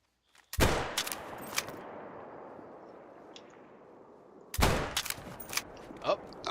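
Two loud gunshots ring out in the hunting video game Call of the Wild, set in New England, each a sharp close crack followed by a long rolling echo that fades across the landscape.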